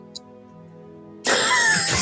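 A single harsh cough bursts out suddenly after a quiet steady hum, loud and close.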